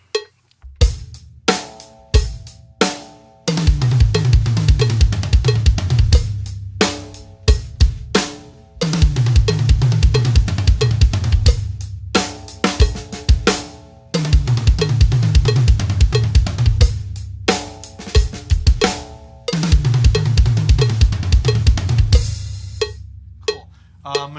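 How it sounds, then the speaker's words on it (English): A drum crossover groove played at 90 BPM, moving between the second rack tom and the floor tom with no snare, sounds as loud, resonant tom hits in a steady repeating pattern. Bright, ringing accents punctuate each bar, and there is no talking. "We're actually going to move it between the second rack tom and the floor tom."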